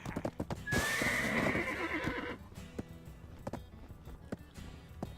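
A horse in the video game Black Desert lets out a loud, high whinny over steady clip-clopping hooves, with the hoof beats continuing at a walk after the neigh fades.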